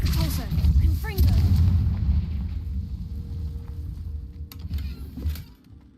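Spell blasts crack and boom in the video game Hogwarts Legacy, a dense series of heavy explosive hits and rumbles, loud and close, with chirping magical effects and a voice shouting spell names over them.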